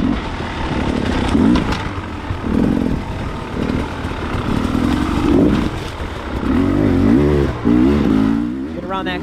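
An enduro dirt bike on a warm-up lap at the 2020 Bad Medicine Hard Enduro race revs hard and close, its loud engine rising and falling in repeated throttle surges with clattering mechanical noise.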